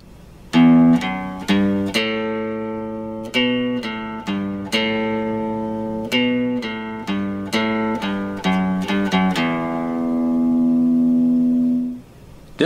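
A guitar plays the main riff: a run of clear, plucked single notes and double stops at a brisk, uneven rhythm, close and alone, ending on a long sustained note.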